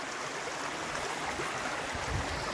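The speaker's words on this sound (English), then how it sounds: "the creek is really running now" A creek running high with flood water, diverted down a street, pours out a dense, steady rushing hiss, close and constant with no break.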